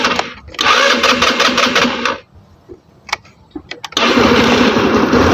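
A GY6 scooter engine cranks with a loud buzzing starter burst, falls quiet with a few clicks and knocks, then fires up again into a steady, rattly close-up run.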